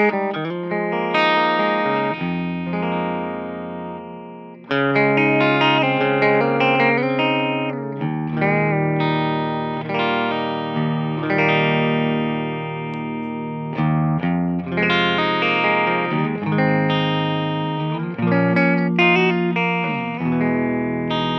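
Electric guitar played through an NRG Effects PUMPER-072 MKII pedal set after an overdrive as a post-gain master volume boost, giving loud, sustained distorted chords and riffs with effects-unit sheen and reverb, continuous with no talking.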